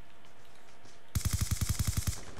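Rapid burst of automatic gunfire from a gun in Black Ops 2 on PC, team deathmatch on the Overflow map: about ten sharp, evenly spaced shots in a loud, close volley after a quiet lead-in, alone with no talk.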